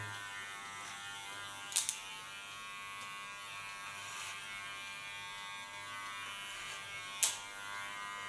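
An electric hair clipper buzzes steadily and close up while shaving the side of a head for an asymmetric side-shave hairstyle, with two brief sharper clicks or scrapes as the blade shifts.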